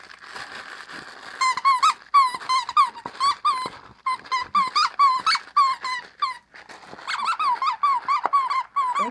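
A dog chews and plays with a squeaky BarkBox toy, producing rapid bursts of high-pitched squeaks in uneven rhythm, close and fairly loud, with occasional low growls and whimpers in between.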